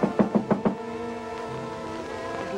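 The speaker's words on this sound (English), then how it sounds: "suddenly there was a knock on the door" Four quick, evenly spaced knocks on a door ring out near and clear, followed by a sustained musical score from an old feature film.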